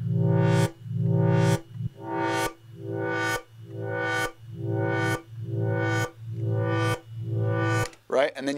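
A square wave synth patch treated with reverb, compression and overdrive plays nine evenly spaced, loud sustained notes, each with a gritty buzzing tone and a short decay, followed by a brief spoken voice.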